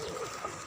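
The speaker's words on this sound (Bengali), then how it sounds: "এদিকে আমার কবুতর আছে, খাবার খাচ্ছে কবুতরগুলো" Pigeons cooing while they feed on a rooftop garden, a short, soft call that sits low over steady background hiss.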